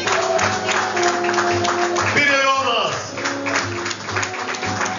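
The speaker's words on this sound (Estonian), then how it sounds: "Ma palun siia nüüd kõik meie kaunitarid, et saaksite neile veel kord teha ühe suure aplausi" An audience applauds beauty contestants at the Hotel Palace 80th-anniversary event in 1937-style fashion, a steady wash of clapping under a voice calling out names.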